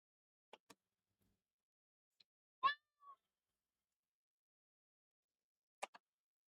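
A male house cat meows once as he runs past a microphone indoors, a short close cry amid near silence, with a few faint clicks and taps before and after.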